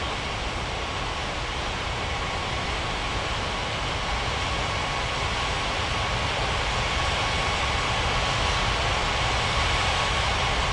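Airliners taxi and land at an airport in a video game, heard as a steady, loud roar of jet engines that continues without a break.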